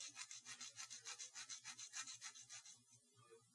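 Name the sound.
sanding a bamboo skewer with an emery board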